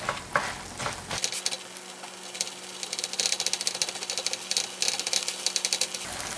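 A seafood pancake with mussels and squid fries in a pan over medium heat, crackling and sizzling steadily, close and continuous, with a brief shuffle of handling at the start.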